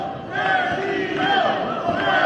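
Wrestling crowd booing Daniel Garcia during his match against Bandido, a loud sustained roar of many voices that swells after a brief quieter start and holds steady throughout.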